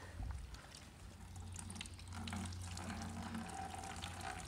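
Water dripping and trickling from a soaked car drying towel into a bucket, a soft, steady liquid patter that is quiet and close, with no talking.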